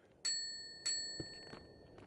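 A service bell struck twice, two bright metallic dings about half a second apart, each ringing out and fading, followed by a couple of soft knocks; close and fairly quiet, with no talking.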